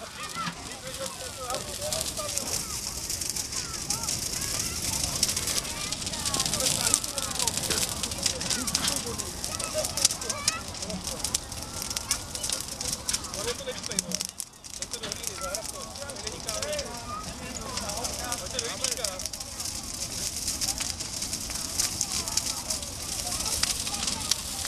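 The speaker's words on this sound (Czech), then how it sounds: "zkusíme uhasit tento oheň" A bonfire on witches' night burns with a dense, continuous crackle and rushing hiss for the whole stretch, with murmured voices of people nearby underneath.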